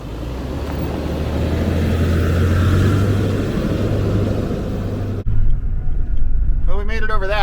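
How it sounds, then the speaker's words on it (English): A four-wheel-drive truck grinds over rough forest terrain with a loud, steady engine rumble and jostling noise for several seconds, then the sound cuts to a closer cabin ambience with a person speaking. "Nate, thanks for making my truck 4-wheel drive."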